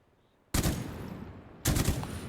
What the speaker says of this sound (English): Now we'll run through the M249 range.